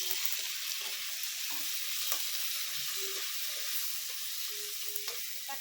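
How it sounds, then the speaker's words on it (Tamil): Tomatoes and salt fry for a chicken curry, giving a steady, fairly quiet sizzle in the pan with occasional faint clicks and spoon touches. "தக்காளி போட்டு தக்காளி வதங்கிறதுக்காக கொஞ்சம் உப்பு போட்டுக்குவோம்"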